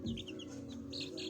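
Light Brahma chickens cluck and peep softly in a short, faint burst, with several small chirps over a low hum.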